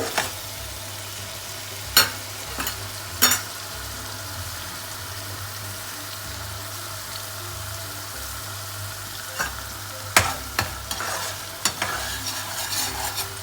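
Garlic, ginger and chili fry in a pan for a restaurant-style dal makhani base. The oil sizzles steadily throughout, broken by a few sharp stirring clacks and scrapes of a utensil against the pan.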